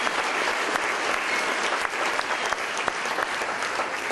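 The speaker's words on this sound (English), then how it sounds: "Let's give him a round of applause for everything he's done for the 100th" An audience bursting into sustained applause for a man being honoured at a comedy event, a dense, even wash of clapping from many hands at steady loudness throughout.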